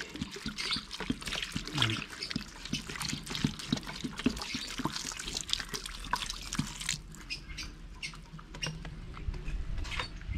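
Steady pattering and dripping of water being poured, a continuous wet trickle with small splashes, fairly close and without talk.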